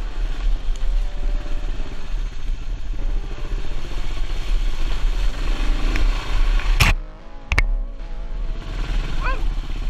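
A Kawasaki KLR650 motorcycle works slowly across a technical trail crossing in Illinois, its engine rumbling low and uneven up close, with rattles, clatter and a couple of sharp knocks from the rough ground.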